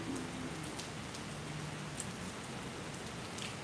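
Steady rain falls outdoors during an open-air wild church gathering, a continuous even patter across the whole stretch with no voices over it.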